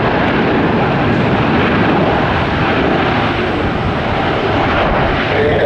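A jet aircraft at Tampa International Airport makes a steady, loud, broadband roar that holds constant throughout, close by and with no talk over it.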